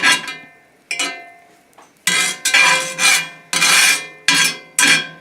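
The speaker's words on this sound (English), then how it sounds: "once you get your butter spread around" Butter being spread around a skillet with a utensil for an omelet: a series of close, rasping scrapes, some long and some short, with brief pauses between strokes, getting steadier toward the end.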